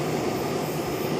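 Boeing 777-300ER jet arriving from London Heathrow at Charlotte airport, a steady broadband engine roar that holds loud and even throughout the short span, with no voices.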